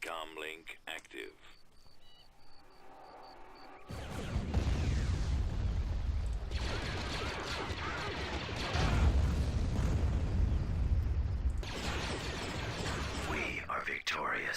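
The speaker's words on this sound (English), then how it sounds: "I should just be able to bombing strike this bunker up here" Bombing strike on a bunker in Star Wars Thrawn's Revenge, a sustained roar of heavy rumbling explosions that starts abruptly after a few seconds and keeps going, louder toward the middle, with a person talking over it.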